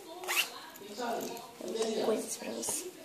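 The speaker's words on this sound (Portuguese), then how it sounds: "Também tem um zíper" A zipper is pulled in several short, scratchy bursts, close by, with a voice speaking in between.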